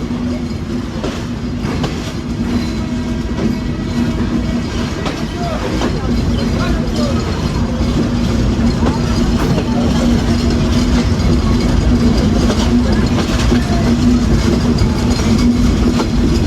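Rupsha Express train rolling along the rails between Chuadanga and Khulna in Bangladesh, heading toward Jessore Junction: a steady, loud rumble and clatter of wheels with a constant hum, heard from inside throughout with no talk.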